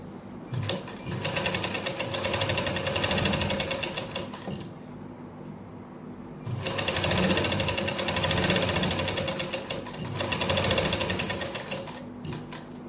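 A sewing machine stitches a seam on buckram in two long, fast, rattling bursts, close and loud, with a short quiet pause between them and no talking.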